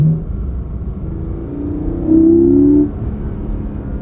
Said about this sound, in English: Listen to that. Sounds really good though. The induction noise is great.